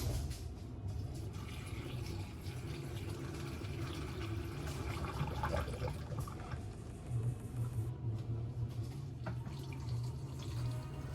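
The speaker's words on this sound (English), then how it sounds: "And now this will just get poured on top of our onions in our jars." Pickling brine is poured from a pot over onions packed in jars, a continuous trickling, splashing water sound, soft and close, lasting several seconds.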